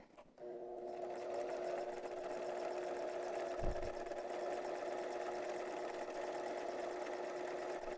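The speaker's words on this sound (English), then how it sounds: "I'm not pushing it. It's just sewing itself." A sewing machine stitches a zipper in a steady, even hum after a brief start, running continuously at close range with no talk over it.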